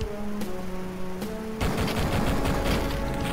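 Machine gun fire in Duke Nukem 3D: a few separate shots at first, then a dense, loud, continuous burst of rapid gunfire that fills the rest of the moment, with no talk.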